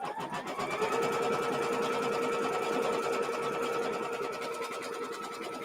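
A sewing machine stitches out quilt pieces, running in one steady, fairly loud whirring drone for several seconds with a faint rhythmic needle tick and no talking over it.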